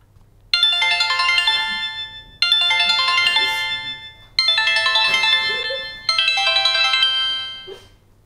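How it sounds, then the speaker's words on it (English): A bright electronic ringtone melody plays four times in a row, each phrase separated by a short gap, clear and fairly close. "was the ringtone"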